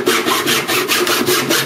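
A cheap saw blade cuts into a Freebox casing in loud, close, rhythmic back-and-forth strokes, about five or six rasping passes in under two seconds with no talking.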